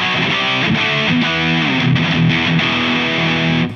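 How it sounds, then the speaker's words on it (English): A Boss GT-1 multi-effects processor plays its power metal riff preset: a loud, heavily distorted electric guitar riff with modulation, octaver and delay, chugging rhythmically for a few seconds. "So on this, which is power metal riff"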